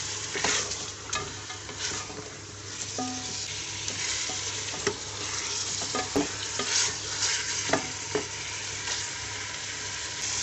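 Mutton sears in a pressure cooker for nihari, a continuous close sizzle broken by frequent scraping and tapping from stirring, with no talk.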